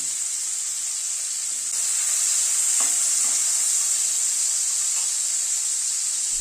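Carrots sizzle steadily in a hot pan with a little salt, a continuous fry hiss with a few faint stirring clicks and no talking.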